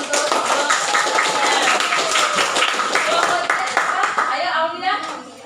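Students in a mathematics classroom clap together, a close, busy patter of hands that holds steady before thinning out near the end, with voices mixed in.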